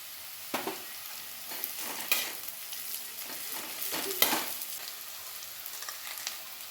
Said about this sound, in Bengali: এবারে আমি কাঁচা লঙ্কাগুলো দিয়ে দিচ্ছি।